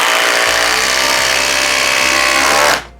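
A Flex stacked lithium impact driver sinks a 5 inch SPAX screw with a loud, close, steady whirring hammer that bogs slightly in pitch as the screw seats, then stops abruptly after about three seconds.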